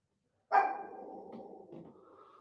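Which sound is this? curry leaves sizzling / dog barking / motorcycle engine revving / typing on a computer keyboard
dog barking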